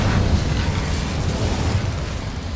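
An Incendio fire spell in Hogwarts Legacy gives off a steady, dense roar of flame with a heavy low rumble that stays loud and constant throughout, with no talking.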